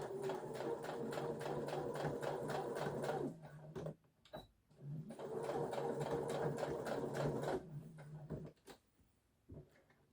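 A sewing machine stitches a tote bag seam in two long bursts of rapid, steady needle clatter, each stopping abruptly and followed by short clicks and handling noises.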